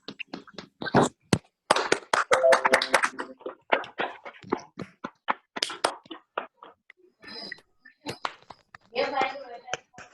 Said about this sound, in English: perhaps clap for a minute for and as an appreciation